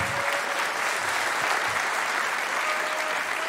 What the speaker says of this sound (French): On peut applaudir Joël, bien sûr.